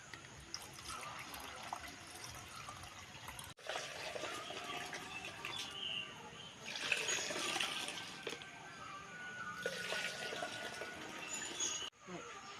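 Water is poured into a homemade orange drink already mixed with sugar and salt, a faint splashing and trickling fill that comes in several bursts with brief pauses between them.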